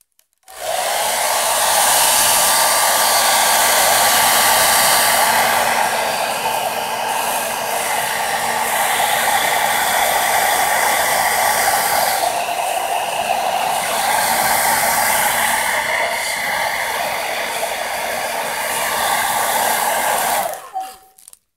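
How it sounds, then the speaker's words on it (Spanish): A hair dryer blows hot air onto tight sneakers to loosen them, a loud, steady whooshing roar running almost unbroken from start to finish. "le vamos a aplicar calor con la secadora en la parte que molesta o la parte que nos aprieta"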